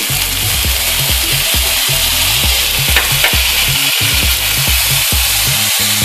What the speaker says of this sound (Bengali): এবার আমি আদা রসুন পেস্টটা দিয়ে দিলাম,